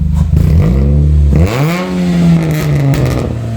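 A 2006 Saturn Ion Redline with an upgraded exhaust revs hard and close, its loud engine note climbing, dropping and swelling again through the full stretch with no voices.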